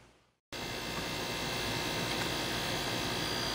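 Air conditioning runs in the cabin of a 1999 Cruisers 3375 Esprit motor yacht: a steady, even hum with a broad hiss switches on abruptly after a brief quiet start and holds constant and fairly loud to the end.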